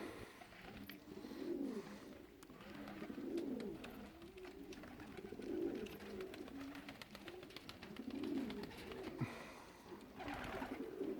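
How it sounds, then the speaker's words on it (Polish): Pigeons coo steadily in a loft on an evening return flight, several birds cooing in overlapping repeated phrases at moderate distance, with faint chirps and light rustling throughout. "jeszcze zlatują się pojedyncze gołębie"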